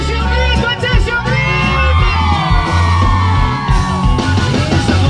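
A man lets out a long, loud sung shout held over several seconds during a Mexican duelo-style song, ringing out above dense music with a crowd whooping around it.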